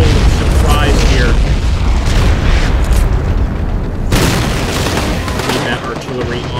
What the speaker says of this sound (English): I see the artillery.